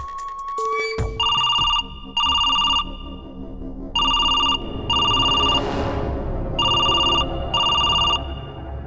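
An electronic phone ringtone trills in repeated bursts, loud and close, with pauses between rings over a busy background of music-like tones.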